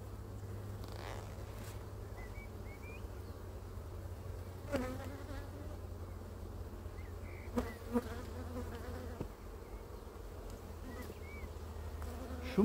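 A dense, steady buzz of many honeybees close by around an open hive during colony splitting, droning continuously with occasional louder passes and faint clicks.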